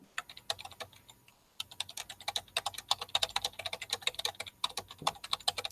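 Fast typing on a computer keyboard, a dense and rapid patter of light key clicks close up. It starts after a brief pause and carries on in quick bursts, with no talking.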